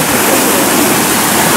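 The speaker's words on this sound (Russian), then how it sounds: "Это идет прилив уже." Ocean waves of the incoming tide roll against a rocky shoreline at Acadia National Park, Maine, a loud, continuous broadband roar of surf without pause.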